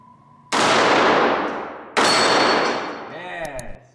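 Two loud, sharp pistol shots from a Walther CCP M2 .380 with a 3.5 inch barrel, the second followed by a ringing metallic clang as a steel flapper target is struck, with a reverberant decay after each report.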